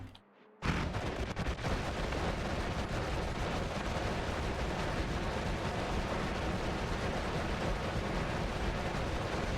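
Continuous roaring explosion damage from a spell in a wand-casting video game, a dense crackling barrage that bursts in abruptly after a quiet moment and stays loud and sustained throughout, with no talk over it.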